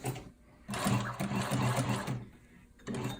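A sewing machine stitches Beta adjustable material in two close, rapid mechanical runs, the second brief, with short pauses while the fabric is turned at a corner.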